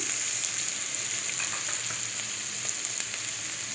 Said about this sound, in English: So we will let it splutter.